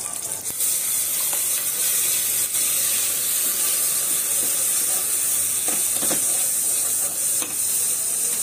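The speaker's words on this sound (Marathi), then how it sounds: "आणि आपण ही जी मिक्सरमध्ये चटणी टाकली ती टाकून घेऊया." Ground chutney goes into a hot mustard-seed, curry-leaf and chilli tempering, raising a strong steamy hiss and sizzle with occasional stirring scrapes, steady and close throughout.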